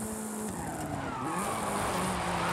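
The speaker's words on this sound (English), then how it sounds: "Listen to that crazy Ford engine." Ford car racing on a fake dirt surface among rocks in Forza Horizon, engine droning loud and steady while tires skid and squeal, pitch rising toward the end with no talk.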